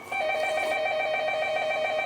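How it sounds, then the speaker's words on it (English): A telephone rings steadily and loudly in a quiet room, its bright trilling tones repeating throughout with no talk over it. "when the phone rings."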